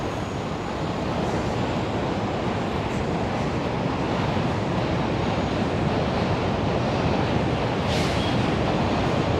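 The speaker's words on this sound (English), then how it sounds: "that train is super loud" A loud passing train roars steadily on a city street, echoing continuously and evenly, with nothing else standing out above the rumble.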